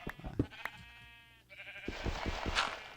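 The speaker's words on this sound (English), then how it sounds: "those sheep are really loud" A Minecraft sheep bleats in a long wavering cry, then another loud bleat follows over a few soft clicks and thumps, close and prominent.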